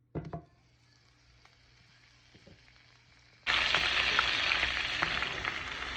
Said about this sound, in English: this butter, we're going to brown it in my cast iron skillet